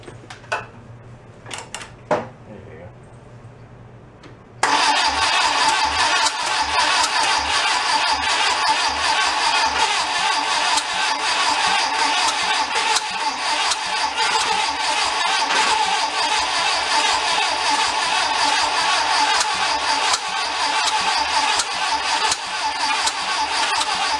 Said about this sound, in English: We're going to go crank her again and see if it can go.